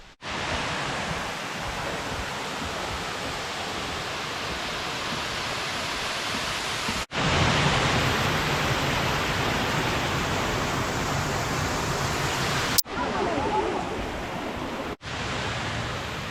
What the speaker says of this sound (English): I hear some rushing water. Maybe it's a waterfall.